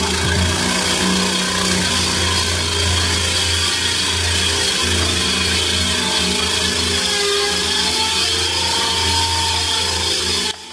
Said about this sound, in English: I got the holes drilled